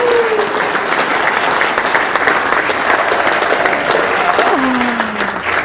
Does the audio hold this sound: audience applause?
yes